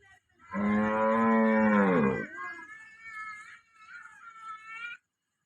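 A dairy cow gives a long, loud moo, followed by a softer, higher drawn-out bellow trailing off.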